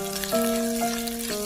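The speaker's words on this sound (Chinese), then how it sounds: "油热之后下入辣椒翻炒" Chili peppers stir-frying in hot oil in a wok, giving a steady, close crackling sizzle under a sustained tonal hum with shifting pitches. No voices.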